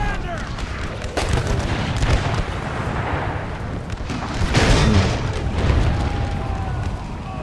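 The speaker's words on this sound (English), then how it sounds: "Shooting artillery and you're just watching it fall apart" Civil War cannon fire in a North & South mod battle at Gettysburg during Pickett's Charge, a dense continuous rumble of distant booms and crackling volleys, with voices talking over it.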